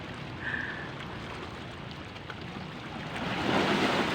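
Small sea waves wash steadily with a soft, continuous rush and wind, swelling slightly louder toward the end; no one speaks.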